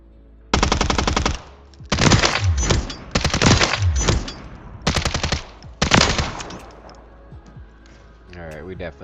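Rapid automatic weapon bursts in the video game Warzone, several loud close volleys of gunfire separated by short pauses, then quiet at the end.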